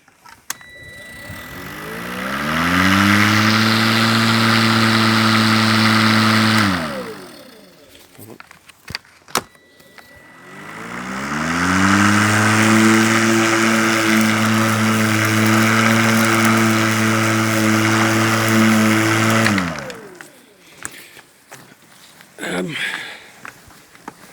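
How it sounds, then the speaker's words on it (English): An Ego 56 volt electric lawnmower with a high-lift blade runs loud and close with a steady whirring hum in two long stretches, separated by a short pause and ending with brief handling noises. "Now obviously it is an electric mower, not quite got the power of a petrol one"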